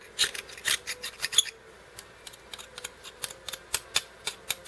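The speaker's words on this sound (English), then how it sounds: "Now you got to cut it off the bottom." A dull knife scrapes and cuts an oyster free from its bottom shell, making a quick series of close, crisp scraping clicks that thin out into softer, sparser scrapes.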